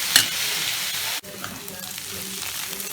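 Raw cashews sizzle with softened onions in a pan for an egg cashew masala curry, steady loud frying with a scraping stir, a brief drop, then continued bubbling.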